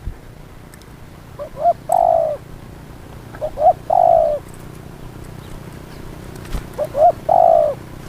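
A dove calls alone in three spaced bursts, each a short soft lead-in note followed by a longer, lower coo, clear against faint background hiss.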